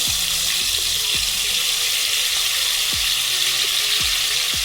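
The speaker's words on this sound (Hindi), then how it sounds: "अब हमने एक कढ़ाई में कुकिंग ऑयल डाल लिया है और ये जो चाप इसमें हमने मैरिनेट करने के लिए रखे थे इसमें से निकालकर इसमें तलने वाले हैं।" Marinated Afghani chaap fries in cooking oil in a kadhai, a loud, dense, steady hiss of bubbling oil with occasional low knocks beneath, close and without speech.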